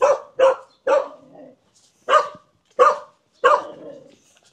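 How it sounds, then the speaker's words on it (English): Dogs in a village in Phong Nha, Vietnam bark aggressively and loudly close by, giving about six sharp barks in quick bursts separated by short silences. "The dogs live in this strange area between barking aggressively but not biting."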